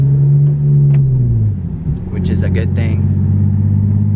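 A Nissan 370Z with newly installed Z1 suspension drives on the road. A low, droning engine and road hum shifts pitch downward, while someone talks over it.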